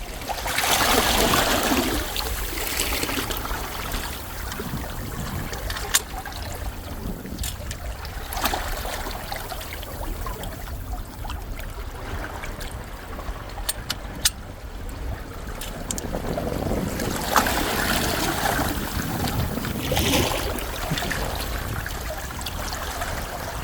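Steady rushing wash of sea water with surges of splashing, waves breaking against a rocky shore nearby at Cheongsapo, Busan, continuous and fairly loud throughout.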